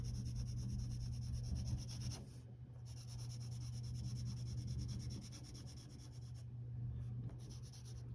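A graphite pencil shades lightly across paper in a soft, continuous scratchy rubbing, with a few brief pauses between strokes over a low background hum.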